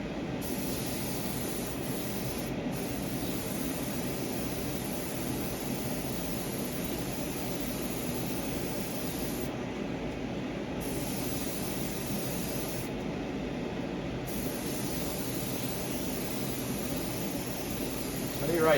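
A Gaahleri Mobius TG airbrush sprays paint in a steady, continuous airy hiss that runs unbroken at an even level, close and fairly quiet with no pauses.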